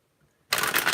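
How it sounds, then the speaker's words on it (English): Tarot cards shuffled in a single close, loud riffle that bursts in after half a second of near silence and continues as a dense papery flutter. "One last shuffle."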